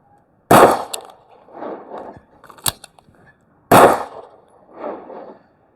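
Two sharp Beretta APX Centurion pistol shots, loud and close, separated by the clicks and clacks of a magazine change, with echoing tails after each shot.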